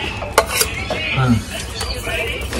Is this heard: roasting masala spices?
yes